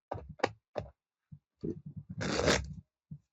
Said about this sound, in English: I'm shuffling the cards on a book.